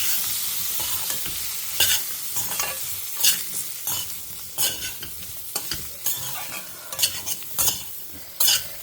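Spices with salt and turmeric stirred through hot oil in a pan for a tamarind curry, a steady sizzle broken by repeated scraping strokes of a spoon, close and fairly loud, with no voices.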